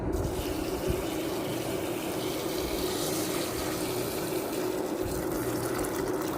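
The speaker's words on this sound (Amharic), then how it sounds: "አሁን እዚህ ጋር የፈላ ውሃ አለኝ፣ ሙቅ ውሃ ጨምርበታለሁ።" Boiling water pours into a pot in one continuous, steady splashing stream, close and fairly loud, with no voices over it.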